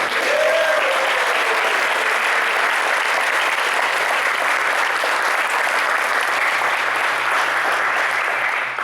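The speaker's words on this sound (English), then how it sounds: "So I'd like to give a round of applause." Sustained applause from a high school audience at a police retirement send-off during an Every 15 Minutes event, loud and steady throughout with a dense wash of clapping and no talk over it.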